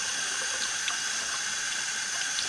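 Hot water runs from a tap in a steady, fairly quiet splashing stream with no pauses and no one speaking.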